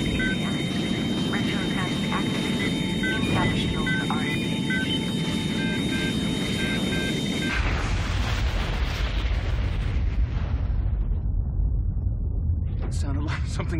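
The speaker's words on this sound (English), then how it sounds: "Something crashed." A helicopter crashes in the film Digital Man, a roaring engine drone with whining tones giving way to a heavy, rumbling impact and debris noise, loud and dense throughout.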